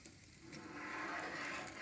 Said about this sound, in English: Look at that, how it's sizzling.